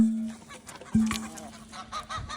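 Chickens being fed their daily scoop of feed make loud honking, squawking calls over scratchy bird noise close by, with a few sharp cries spread across the clip and no one talking.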